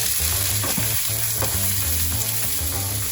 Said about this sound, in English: Time to fry. In our saucepan, we start with our medium onion